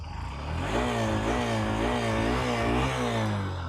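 A Hero Super Splendor Xtec 2.0 or Honda Shine 125 motorcycle engine idles close by with a steady, throbbing rumble, briefly revving up and settling back.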